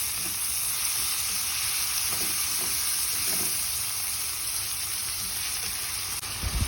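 Small pieces of meat fry with a steady sizzle in a pan while a spatula stirs them, with faint scraping under the constant crackle, for a banana heart dish.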